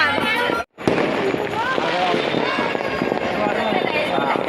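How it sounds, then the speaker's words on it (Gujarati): Crackling bursts of firecrackers go off continuously amid a noisy crowd with voices during Uttarayan in Ahmedabad, dense and loud, broken by a brief moment of silence. "ફટાકડા ફૂટે ઉત્તરાયણના"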